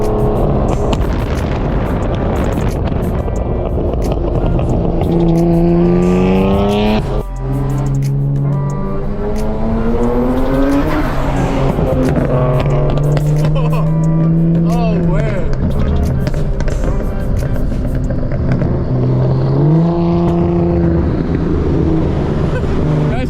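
Cars at a meet rev and pull up, engine notes rising and falling in long sweeping runs, loud and close, with people talking over the continuous engine noise.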